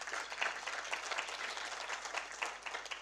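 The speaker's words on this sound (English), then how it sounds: "So I want you to give Mr. Yearwood another round of applause." Conference audience giving a round of applause at a Caribbean civil society gathering, a steady, moderately distant patter of many hands clapping at once.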